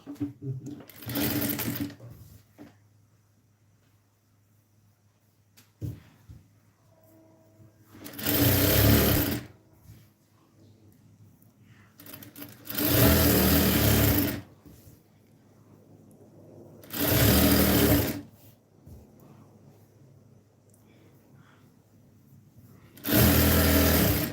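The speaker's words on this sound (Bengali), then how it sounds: "সেলাই করে নিচ্ছি" A sewing machine stitching a quilted piece of fabric runs in several loud, steady motor bursts of a few seconds each, separated by quieter gaps with small handling clicks.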